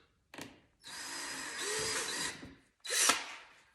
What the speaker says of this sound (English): Now you're gonna set it up there and drill your first.